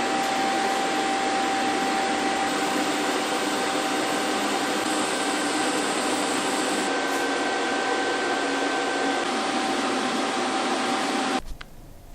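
A TIG welder with filler rod runs a bead on a G-body bumper, producing a steady, loud electrical hiss with a constant tonal hum that cuts off abruptly near the end.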